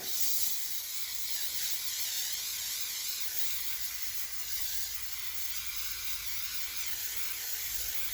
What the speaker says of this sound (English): back to our Snellio fixative. I'm just going to give this a quick coat.